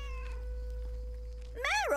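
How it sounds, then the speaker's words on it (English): A cat meows near the end of a calm scene in the video game Lake, a short rising and falling cry over a soft steady hum and faint tones, with no talk. "We get to see the kitties!"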